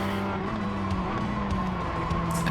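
Replay sound from the iRacing sim of a Mazda MX-5 race at Winton, a steady engine drone with tire noise and faint scrubbing, moderately quiet and continuous with no talking.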